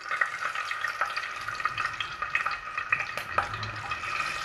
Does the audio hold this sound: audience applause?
no